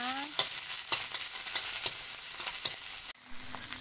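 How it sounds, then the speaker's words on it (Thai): Curry paste fries with steady sizzling in a hot wok, with occasional scraping stirs, fairly quiet and close, no voices. "กระทะร้อนแล้วนะคะ ใส่พริกแกงกันจ้า ใส่พริกแกงให้หอมเลยนะ"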